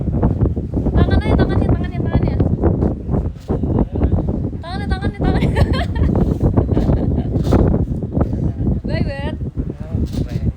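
Strong, cold wind buffets the microphone outdoors in a steady, loud roar that runs through the whole stretch, with bird-like chirps on top.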